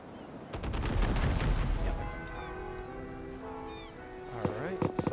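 Bursts of gunfire ring out around an island in a video game, several rapid shots followed by a sustained stretch of mixed game noise with tonal effects, ending in a few sharp reports.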